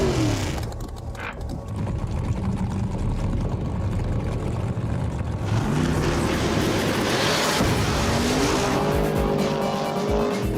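A drag race car making a full-throttle street pass, its engine roaring loud and continuous with rising pitch sweeps as it accelerates hard.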